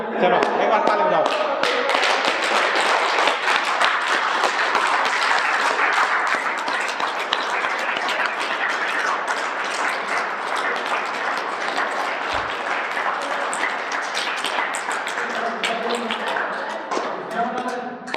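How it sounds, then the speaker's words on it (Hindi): A yoga class claps together in steady, dense applause that holds at an even, close level for about eighteen seconds before tapering slightly at the end. "चलो एक बार ताली बजाओ।"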